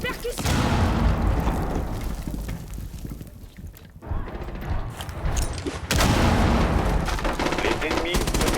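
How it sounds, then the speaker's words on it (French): Machine gun fire in the Rainbow Six Siege video game on the Favela map, with dense rapid bursts of shots and booming impacts, a brief lull midway, then renewed heavy firing. "C'est pas un fusil à pompe que j'ai, c'est une mitrailleuse."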